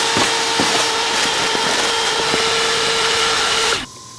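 A vacuum cleaner runs steadily while cleaning a car in a video game, a loud, even whine that holds for nearly four seconds, then cuts off abruptly into quiet.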